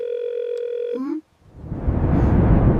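An outgoing phone call rings with nobody picking up: a steady electronic tone holds for about a second, bends briefly and cuts off, then a swelling wash of broadband noise rises in its place.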